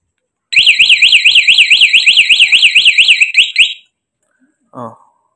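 A motorcycle alarm siren sounds loudly up close, warbling rapidly up and down for about three seconds before cutting off, followed by a brief separate chirp.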